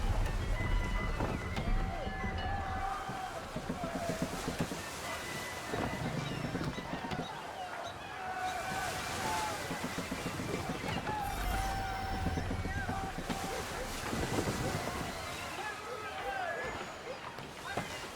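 Wind gusts roar around a sailing ship running at full sail in Assassin's Creed III, with water rushing against the hull and voices calling out over a steady, dense wash of noise.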